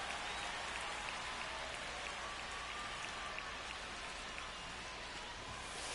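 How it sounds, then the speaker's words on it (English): Steady rain falls during a baseball game, a constant dense hiss of drops striking surfaces that holds evenly throughout with no talk. "This rain is not letting up."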